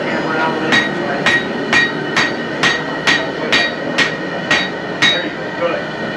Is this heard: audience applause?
no